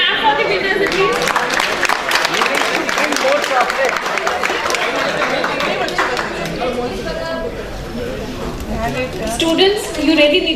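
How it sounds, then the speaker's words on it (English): An audience at an entrepreneurship conference applauds quiz winners: dense, steady clapping mixed with crowd chatter and voices fills the room, then thins toward the end. "Guys, let's clap for the winners at least."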